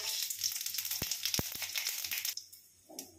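Whole spices fry in hot oil in a wok for phulkobi kurma, a close bright sizzle with a few sharp crackling pops that stops abruptly near the end, no one speaking.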